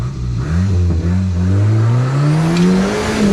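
Car engine revving hard on a trail, its pitch climbing steadily with a whistling turbo spool building underneath, loud and close, with no talk over it.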